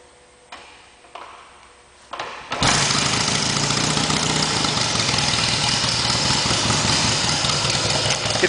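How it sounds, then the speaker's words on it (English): A cold motorcycle engine with the choke on is kick-started: a few thumping kicks, then it catches and settles into a loud, steady, rapid idle. "I'll use the Kickstarter here."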